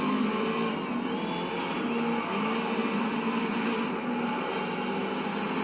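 Race car engine in Race Driver GRID's demolition derby mode, a steady loud roar with scraping and tyre noise as a car is spun out, continuous with no voices.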